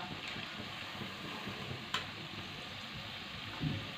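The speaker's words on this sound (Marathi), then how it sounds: "आता हे भजे आपल्याला असेच मस्त ब्राऊन रंगावरती तळून घ्यायचे आहेत" Spinach bhaji fritters deep-frying in hot oil, a soft, steady sizzling hiss that continues throughout, broken only by a couple of faint pops and ticks.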